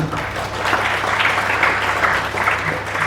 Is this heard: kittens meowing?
no